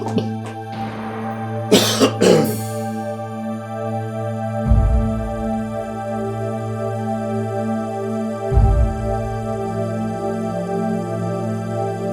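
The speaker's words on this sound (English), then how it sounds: "Next time you will make me cough" A woman coughs in a room: a couple of sharp, close coughs early on, then two more separated by pauses, over a steady electronic hum with soft background music and no talking.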